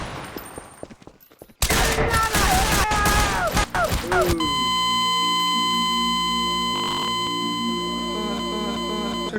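Bursts of rapid gunfire in a police video game, loud crackling volleys followed by a sustained layered electronic tone and further sharp shots, with no one talking.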